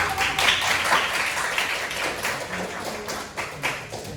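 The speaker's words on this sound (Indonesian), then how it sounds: "boleh kasih tepuk tangan dulu" Applause from an audience at a public speaking event as a makeup artist is introduced, a steady mass of hand claps, moderately loud and continuous throughout with no talk over it.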